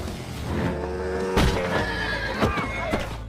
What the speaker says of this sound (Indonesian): salah satu anak buahnya nggak sengaja menabrak kuda yang tiba-tiba melintas